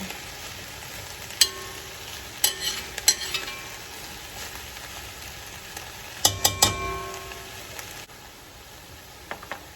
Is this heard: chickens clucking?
no